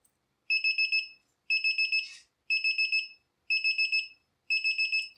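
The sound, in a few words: Arduino buzzer alarm sounding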